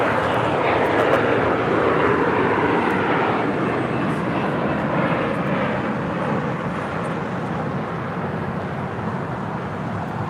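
A 20-year-old Delta Airlines Airbus A319 arrives at LAX from Las Vegas, its engine roar loud, broad and steady throughout, easing slightly toward the end.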